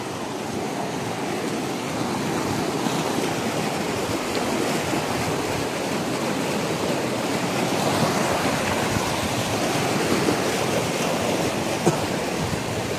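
Strong waves crash at the shore in a continuous, roaring surf with rushing water, loud and close, building slightly in the middle with no clear breaks.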